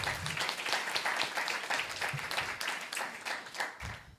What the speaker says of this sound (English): So a round of applause for Jeremiah